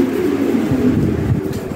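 Lahori Sirazi pigeons cooing softly inside a cage, a low steady murmur of several birds close by with no one talking.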